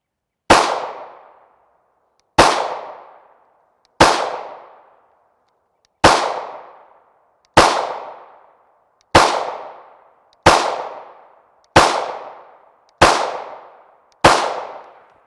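A Ruger pistol fires Fiocchi 5.7x28mm 40gr FMJ rounds, ten loud, sharp shots spaced about one to two seconds apart, each followed by a brief ringing decay.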